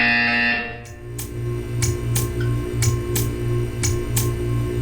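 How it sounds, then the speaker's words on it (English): A buzzer in the video game Portal 2 pulses in a steady, repeating rhythm, roughly twice a second. Each beat is a loud, low drone with sharp clicking edges, over a constant humming background. "When you hear the buzzer, stare at the art."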